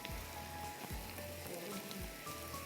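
Mustard seeds, curry leaves and chopped tomatoes fry in a pan with a steady, dense sizzle and crackle. A few faint low thumps sound underneath, and no one speaks.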